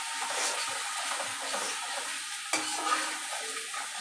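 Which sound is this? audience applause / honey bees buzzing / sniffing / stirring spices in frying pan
stirring spices in frying pan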